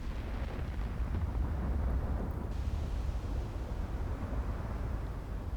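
Heavy 18-inch HE shells exploding in Ultimate Admiral Dreadnoughts naval combat, a dense continuous low rumbling roar of blasts and fire that stays loud throughout, with no voices.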